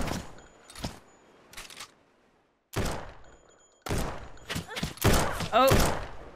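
Bandits fire guns in a survival video game, scattered sharp shots arriving in irregular bursts that grow denser and louder toward the end, with gaps of near quiet between them.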